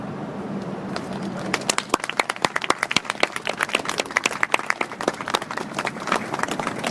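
Audience applause at a memorial evening for a soldier who died in the military, offered to the grieving mother and family, building from scattered claps into sustained, dense clapping from a crowd.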